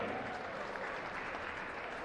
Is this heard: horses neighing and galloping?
no